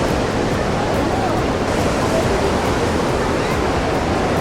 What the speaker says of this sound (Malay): Jom kita tengok keadaan sungai dia dengan air yang sangat deras